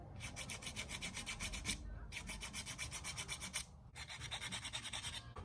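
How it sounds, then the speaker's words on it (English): A fingernail file rasps back and forth over hardened Bondic UV glue, close and loud, in three bursts of rapid regular strokes separated by brief pauses. "I'm sanding it as if it were part of the plastic."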